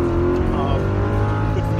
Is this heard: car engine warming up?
yes